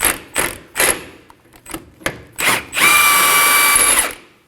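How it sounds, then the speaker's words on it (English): A 24mm socket on a power tool spins off the inner tie rod nut on a 2016-2020 Kia Sorento: a few short mechanical bursts, then a sustained loud whirring run of about a second and a half, close up, with no talking. "I'm gonna use a 24mm socket."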